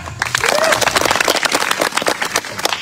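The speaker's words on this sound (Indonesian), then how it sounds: "Tepuk tangan." An audience at an Easter seminar breaks into brief, lively clapping, dense and close, with voices mixed in.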